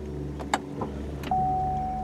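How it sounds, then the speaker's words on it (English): Push-button engine start of a 2016 Chevy Cruze Premier RS, with a few soft interior clicks and button sounds, then the engine catches abruptly and settles into a steady close idle drone. "All you have to do to start the car is make sure your key is in the interior, put your foot on the brake, and hit the start button."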